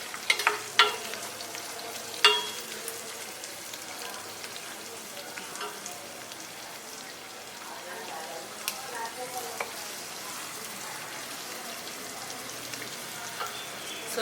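Onions roasting in a pan for a Dasara hurali recipe give a steady, moderate sizzle and crackle with a few sharper stir clatters near the start, heard alone at close range.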